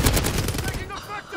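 A RAAL MG light machine gun fires in Call of Duty: Modern Warfare, a loud, dense burst of rapid automatic shots filling the first part, then tapering into scattered quieter game noise.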